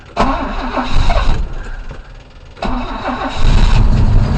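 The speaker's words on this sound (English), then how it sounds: "Let's go ahead and fire up this motor." A car engine cranks and catches, then runs rough and loud, dipping briefly before revving up again close by.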